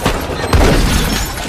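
Gunfire in a film shootout between police and a gang: a dense, loud burst of sharp booming shots crowded into under two seconds, heavy and close.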